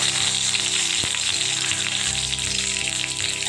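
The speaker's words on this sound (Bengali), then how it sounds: "তেলটা গরম হলে আমি এর মধ্যে দিয়ে দেবো দুটো তেজপাতা" Two bay leaves sizzling as they drop into hot oil for a vegetarian bottle gourd kofta, a steady close frying hiss with a brief crackle burst near the start.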